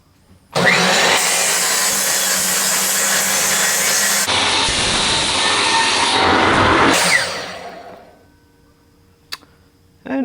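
Power saw trimming cedar wood pieces, a loud close whining cut lasting several seconds, changing pitch midway, then spinning down, followed by a few faint clicks.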